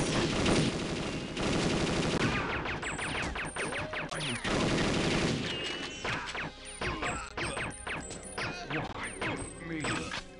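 Rapid bursts of gunfire from the Perfect Dark video game, loud clattering volleys and sharp impacts, dense at first then choppier, with no talking over them.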